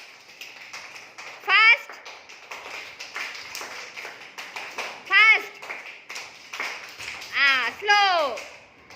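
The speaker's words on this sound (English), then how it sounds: "Clap your hand." Hands clap in quick bursts during a slow-fast children's clapping game, the claps sounding close and mixed under a voice calling out the pace.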